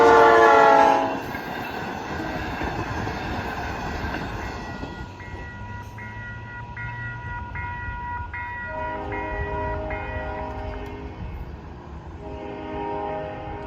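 Double-decker passenger train passing through a station without stopping, a loud horn blast at the start, then repeated horn tones over steady rolling rail noise and clatter.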